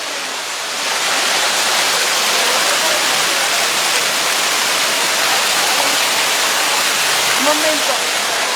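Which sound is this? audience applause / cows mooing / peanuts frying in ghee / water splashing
water splashing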